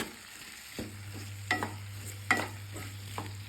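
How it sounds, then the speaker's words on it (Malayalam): Chopped onions, green chillies and salt stirred in a pan, a few scraping stirs with soft sizzling, close and moderate, with a steady low hum running beneath and no talking. "സവാള വേകാൻ ആവശ്യമായ ഉപ്പും കൂടെ ചേർത്ത് നന്നായിട്ടൊന്ന് മിക്സ് ചെയ്തെടുക്കാം"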